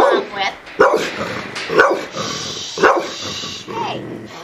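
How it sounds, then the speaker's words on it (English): A shelter dog barks and growls toward the camera in repeated short bursts, close and fairly loud, while someone talks over it. "she's growling and barking at the camera"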